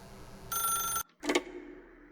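A telephone rings in The Stanley Parable, sounding one bright, metallic, buzzing ring that stops, then a short clunk and rattle follows, fairly quiet against a low background hum.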